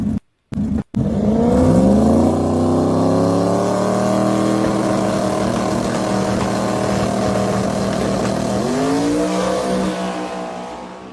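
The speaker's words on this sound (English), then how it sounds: "if you listen to that car get down the track" A car with a 6R80 automatic transmission launches and accelerates hard down a drag strip, engine roaring loud and close, pitch climbing through gear changes with a brief dip near the end as it pulls away.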